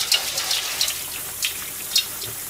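Water runs into a kitchen sink as a bowl used for tempura is washed, a steady close rush with a few sharp splashes and clatters.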